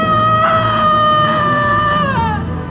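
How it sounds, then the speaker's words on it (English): A woman's long, loud scream sustained for nearly three seconds as part of a dramatized audiobook scene, wavering in pitch and then sliding downward near the end, voiced alone with no other talk. "The woman's voice screamed."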